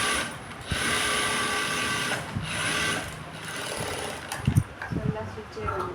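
A sewing machine stitches a blouse in a clattering, continuous mechanical run with rhythmic ratcheting pulses, broken by a few louder knocks toward the end, close and steady with a voice speaking over it.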